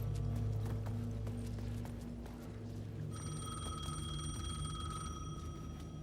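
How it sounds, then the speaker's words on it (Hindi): A phone rings in Alan Wake 2, its bright electronic tone entering halfway through and holding steadily over low, dark game ambience and rumbling background noise. "फिर से हम हमारा फोन बज रहा है"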